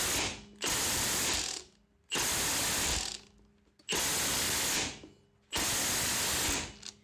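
An impact gun hammers on lug nuts while working on a Jeep Grand Cherokee, four loud, close bursts of rapid rattling, each about a second long and separated by short pauses.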